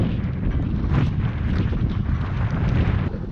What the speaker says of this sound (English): Sorry about being so windy.